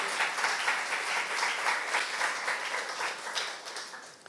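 A church youth congregation breaks into sustained applause during a sermon, a broad, even roar of many hands clapping that holds steady and tapers slightly at the end.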